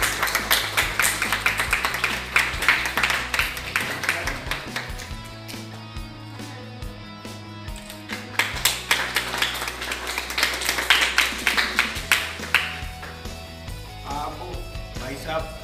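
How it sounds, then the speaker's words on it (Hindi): An audience at a group art exhibition claps in a loud, rapid patter that swells and dips, with tonal sounds and voices running underneath. "ये अभी खत्म नहीं हुआ तब तक ताली बजाइए"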